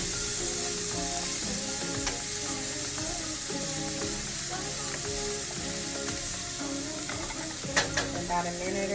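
Onions with a few peppers sautéing in a pan for a vegan spinach artichoke dip: a continuous loud hiss of frying under constant stirring, scraping and occasional clicks of a utensil, close and unbroken, no talk.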